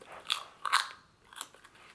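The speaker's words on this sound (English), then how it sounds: "I think it's foaming up in my mouth as I chew it." Sour Japanese candy being chewed close to the mouth, with crisp crunching bites in a few quick bursts and quieter moist chewing between them, no talking.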